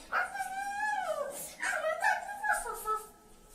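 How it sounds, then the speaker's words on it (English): Small dog whimpering and yipping close by, a few high, wavering whines and short yips in quick succession, some sliding in pitch. "Oh, he's a little doggy."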